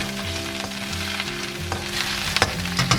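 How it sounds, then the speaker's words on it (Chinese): Aromatics and onion hitting hot oil in an iron wok: a steady close crackling sizzle with scattered sharp pops and a few scraping stir strokes toward the end. "铁锅我们重新倒一点油。 把这个料头跟洋葱放上去，给它爆香。"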